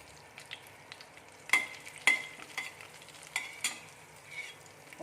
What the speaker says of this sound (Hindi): ये हो गया है घी गरम। अब इसमें मैं डाल देती हूँ जीरा